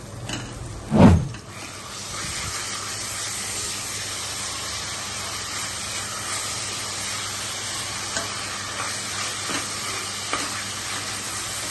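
Minced meat keema hits a hot pan of frying onions and spices for a cashew keema curry, giving a sharp burst of sizzle followed by a steady, even hiss of frying.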